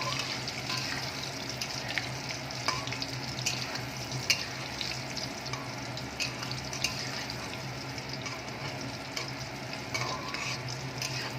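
Chicken kofta balls shallow-frying in oil for a kofta curry, giving a soft, steady sizzling hiss with faint crackles and occasional light scrapes throughout, fairly quiet and with no talking.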